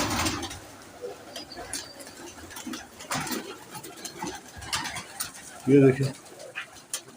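Pigeons in a loft giving soft low coos amid faint rustling and shuffling, with one clearer throaty coo near the end; someone talks over them.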